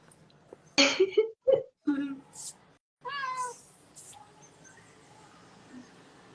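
A kitten gives several short meows in quick succession, fairly close, followed by a longer drawn-out meow, with a person's voice heard nearby.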